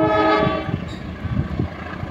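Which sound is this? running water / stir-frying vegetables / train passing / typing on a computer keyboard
train passing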